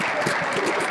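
Sponsor applause from an audience at a line-following robot competition, a dense, steady wash of clapping that fills the whole moment without pause.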